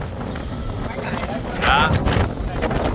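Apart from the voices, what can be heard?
strong wind at the beach in Vung Tau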